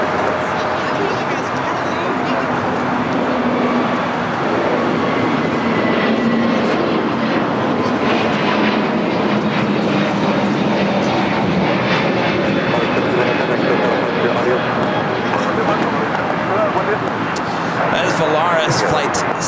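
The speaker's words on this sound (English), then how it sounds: "Flight 1711 heading to Guadalajara in the A321 Neo" An Airbus A321neo jet taking off at LAX on a United-era flight to Guadalajara, a loud continuous engine roar with broadband rumble and whine that holds steady throughout, heard alongside occasional speech.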